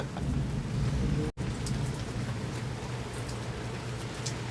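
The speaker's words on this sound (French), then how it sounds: "Il mouille encore plus encore." Heavy, steady rain pours down during a July thunderstorm, a dense continuous roar of drops on surfaces, loud and close, with a brief dropout partway through and no voices.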